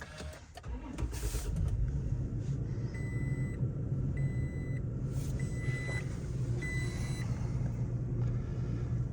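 A lifted 2020 Toyota Tacoma pickup's engine turns over and settles into a steady, loud idle rumble, while a dashboard chime beeps in short repeated pairs partway through.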